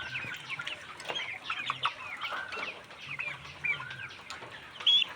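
Chickens with fowl pox cluck and chatter in quick, overlapping bursts, a small flock nearby at moderate volume with no talking.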